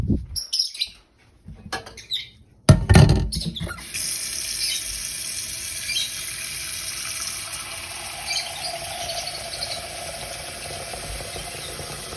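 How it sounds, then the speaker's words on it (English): Water runs from a tap into a pot with a steady splashing rush after a few clanks and bumps, continuing evenly to the end, filling it to submerge sneakers. "Probably should fill the pot up with more water to cover the uppers."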